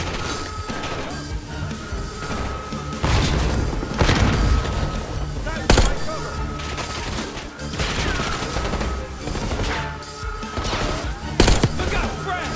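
Dense Call of Duty Black Ops 6 combat, with heavy booms from a grenade blast and surrounding explosions, crashes and gunfire filling the scene, loud and continuous, with a few sharp peaks standing out.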